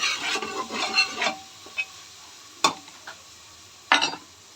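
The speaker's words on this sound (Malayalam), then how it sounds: "ഇനി അതെല്ലാം കൂടി നന്നായി മിക്സ് ചെയ്തെടുക്കാം" Vegetables, green peas and soya chunks being stirred in a pan for vegetable biryani: a few scraping strokes with soft sizzling, then quiet gaps broken by two sharp spoon knocks against the pan.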